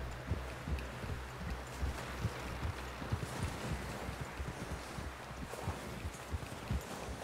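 Horse hooves clip-clop steadily in Red Dead Redemption II, a rhythmic run of close, moderately loud hoof strikes over a low rumbling game soundscape, with no talk.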